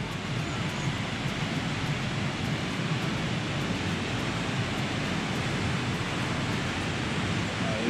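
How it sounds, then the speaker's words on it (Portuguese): A huge waterfall along a trail on the way to Milford Sound, New Zealand, a loud, dense, steady roar of falling water with no voices. "A queda d'água é gigantesca ali, uma baita de uma cachoeira."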